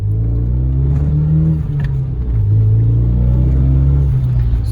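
A Renault Megane 225 accelerating, its exhaust giving a loud, steady low drone with a rising engine note and a brief dip partway through as the car pulls.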